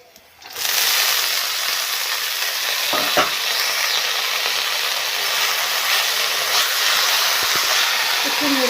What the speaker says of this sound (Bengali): এবার আমি কুটে রাখা ছোট ছোট করে মূলো শাকটা এর মধ্যে দিয়ে দেব।